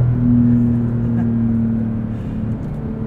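A 2021 Porsche 911 Turbo S engine drones steadily from inside the car, its tone easing slightly over a few seconds while a person talks over it.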